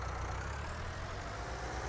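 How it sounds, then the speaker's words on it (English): A tractor engine in the Farming Simulator video game runs steadily at a low idle, a constant close rumble with no voices or other sounds over it. "Volume of tractor."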